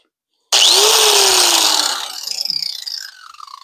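A power grinder bites into metal on a car transmission with a sudden loud high whine that holds for over a second, then fades and rasps unevenly as the wheel spins down; no talking.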